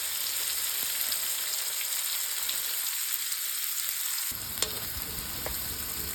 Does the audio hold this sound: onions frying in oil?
yes